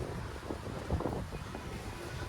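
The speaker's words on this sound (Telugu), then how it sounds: "చల్లని గాలి, చల్లని వాతావరణం." Cool wind blows outdoors at the ISKCON temple in Anantapur, Andhra Pradesh, as a steady low rush and buffeting against the microphone, continuous and fairly quiet, with no talking.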